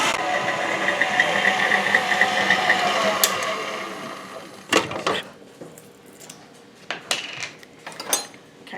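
An electric mixer whips chocolate hazelnut cheesecake pudding with a steady whirring hum for about three seconds, then switches off. Scattered clinks and knocks of the beaters and bowl follow, close by.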